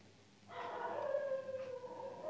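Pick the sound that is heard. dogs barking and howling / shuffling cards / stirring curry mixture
dogs barking and howling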